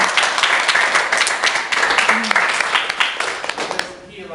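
An audience applauds steadily and densely throughout, a continuous wash of many hands clapping at a performance that thins out toward the end.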